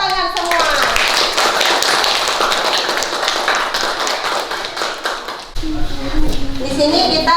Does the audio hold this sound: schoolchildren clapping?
yes